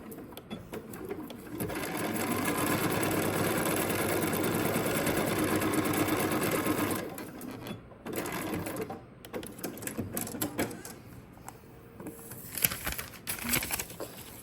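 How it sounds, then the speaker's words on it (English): A sewing machine stitches a quilt block seam with a steady close whir lasting about five seconds, followed by intermittent handling and fabric rustles. "we're gonna back tack when we start and stop our seam"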